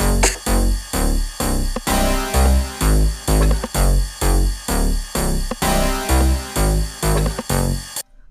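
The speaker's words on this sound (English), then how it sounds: "I found like a little soft synth that I kind of like called SEM" SEM analog-style soft synth by G-Force playing a steady, rhythmic run of repeated notes and chords with punchy low end, loud and alone for about eight seconds before stopping abruptly.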